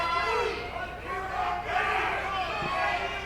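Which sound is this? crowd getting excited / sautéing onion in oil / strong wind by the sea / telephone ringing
crowd getting excited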